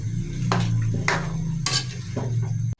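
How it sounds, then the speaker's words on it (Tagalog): Pork mechado with marinade being stirred in a pot, a spoon scraping in repeated strokes over a steady close sizzle and bubbling, no voices. "Ibuhos na rin natin yung pinang-marinate natin at i-continue uli natin yung paghalo"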